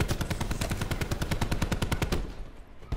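A Morgue gun in Black Ops 4 fires a rapid, steady burst of about twenty close, loud shots, then cuts off into fading tail noise, with no talking over it.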